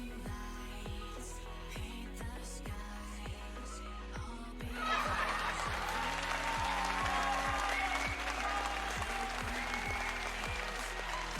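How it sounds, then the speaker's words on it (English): A crowd-cheer effect triggered from a streamer's soundboard during a game stream: applause and cheering swell in about halfway through, over steady background game music that plays throughout. "I need to actually hotkey like a crowd cheer or something"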